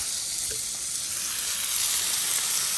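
Thick New York strip steaks sizzle on a hot Blackstone griddle, a loud, steady hiss of frying fat that runs without a break for a few seconds, with no talking.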